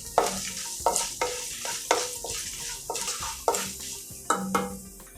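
Mustard seeds, dried chilies, lentils and cashews frying in hot oil with a spoon stirring the pan, a continuous crackling sizzle punctuated by regular scraping and clinking strokes.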